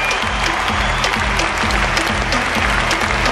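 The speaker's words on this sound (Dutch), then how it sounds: "Luid applaus voor Barsim" Stadium crowd applauds loudly for high jumper Mutaz Barshim after an athletics competition, a dense, continuous roar of clapping filling the whole stretch.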